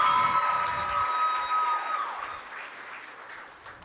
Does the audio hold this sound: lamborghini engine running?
no